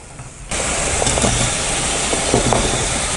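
Potatoes frying in a pan with curry leaves and chillies, a steady, loud broadband sizzle that starts abruptly half a second in and then holds constant, with a few faint clicks of a utensil.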